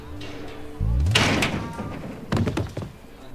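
A person bumps into a glass door with a sudden loud thump, followed by rattling and a second knock as the pane settles, with faint voices behind.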